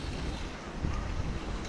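Light wind blowing across an outdoor terrace, a steady low rumbling buffet of air against the microphone, close and continuous with no voices.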